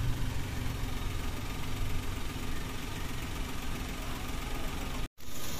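A Suzuki DA64 mini van's engine idles steadily up close, a constant low rumbling hum with even texture, briefly cut off near the end before resuming.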